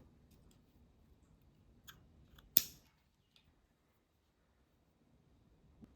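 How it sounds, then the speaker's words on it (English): Scissors make one sharp snip through crochet yarn, close and quiet, in an otherwise near-silent room with a few faint ticks. "and cut your yarn."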